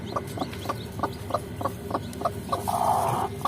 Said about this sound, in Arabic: هذا اول واحد، اول كتكوت